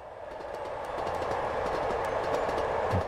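A train in Train Simulator 2021 on the Norwich to Lowestoft line rolls along the track with a steady rumbling hum and faint rhythmic clicks, building slightly in loudness, with a low thud near the end.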